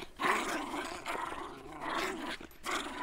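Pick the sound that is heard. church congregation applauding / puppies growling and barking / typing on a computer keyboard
puppies growling and barking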